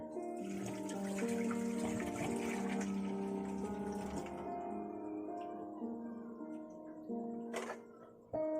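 Water draining out of baby bottles after brushing the rings and nipples at a sink, a continuous pouring and trickling flow with ringing, resonant tones that gradually fades and ends with a brief clatter.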